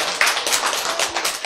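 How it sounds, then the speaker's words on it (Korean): Hand clapping in a health lecture setting, a run of soft, rapid claps at steady volume for over a second, fairly close. "이렇게 박수를 쳐도 폼 잡고, 치는 거를 점잖다고 그래요"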